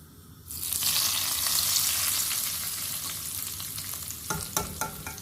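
Ingredients hit a hot pan of chicken karahi with a sudden loud sizzle that keeps frying steadily, followed near the end by a few clinks and scrapes of stirring, close up with no talk.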